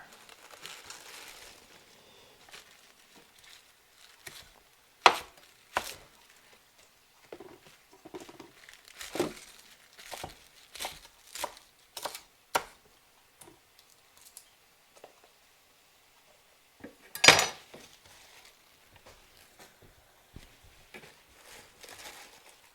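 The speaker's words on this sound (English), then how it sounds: "chopping the spinach so that it will disperse a little easier throughout the dish" Soft, irregular knife taps and crunches of spinach being chopped on a cutting board come in scattered bursts with quiet pauses between them.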